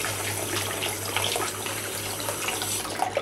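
Hot tap water runs steadily into a sink while a Doctor Who Dalek toy is rinsed, a continuous close splashing gush with no talk over it.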